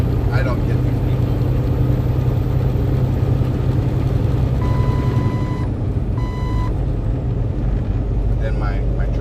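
A truck's proximity warning alarm sounds in two short bursts of repeated beeping inside the cab on a highway, over a steady engine drone while someone talks.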